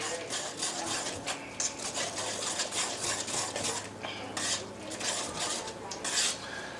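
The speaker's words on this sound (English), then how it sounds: "we're going to whisk it up" A whisk scrapes and taps through a roux sauce for seafood pot pie in a pot, making rapid, rhythmic swishing and light metallic clicks, close and continuous with no talk.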